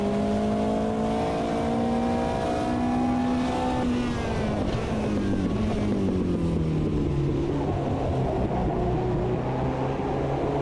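Racing car engines in a racing video game drone loudly and continuously, with the pitch sliding up and down as cars accelerate and shift.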